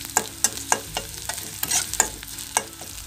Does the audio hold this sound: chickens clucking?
no